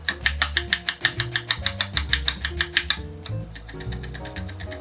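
A knife dicing an onion on a cutting board, rapid evenly spaced chopping taps in a quick steady rhythm that slow and soften near the end, close and fairly loud with no talk.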